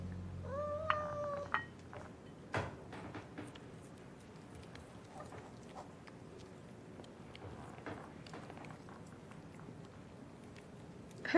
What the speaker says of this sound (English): Whose cat is that?